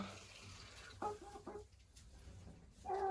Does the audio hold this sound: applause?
no